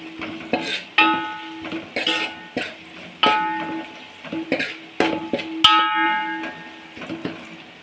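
A spoon clatters against a pan while gongura leaves are stirred with turmeric, a steady rhythm of scrapes and metallic rings over a soft sizzle, close and fairly loud.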